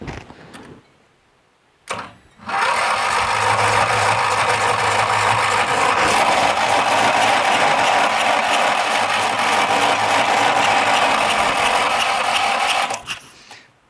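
A Briggs lawn tractor engine cranks briefly, then catches on choke and runs at a steady, loud, close drone for about ten seconds before it cuts off.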